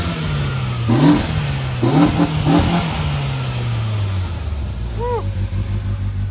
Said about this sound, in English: checking out the ProR here for a little engine noise.